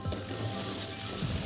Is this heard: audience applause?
no